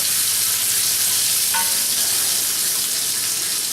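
A pork chop sizzles steadily in a frying pan, a dense, even hiss of hot fat that stays loud and close throughout with no talking.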